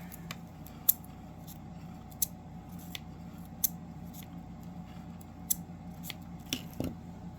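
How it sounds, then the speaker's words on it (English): Scissors snipping craft tape for a 3D folio card, a handful of sharp, separate close clicks spaced irregularly over a quiet background, with no talking. "I'm not eyeballing it. I am just randomly cutting."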